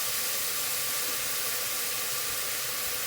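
Onions frying in a pan give a steady, even sizzle that holds unbroken throughout at moderate loudness, with no voices over it.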